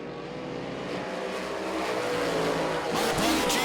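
Supermodified race cars circle the Lancaster Motorplex oval at speed, their engines roaring in a continuous loud drone that swells as a car passes near the end.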